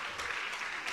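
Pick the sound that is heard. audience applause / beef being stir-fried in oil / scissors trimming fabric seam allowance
audience applause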